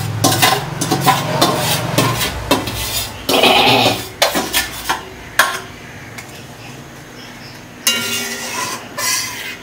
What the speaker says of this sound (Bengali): ভাজা ডিমগুলো আমি দিয়ে দিচ্ছি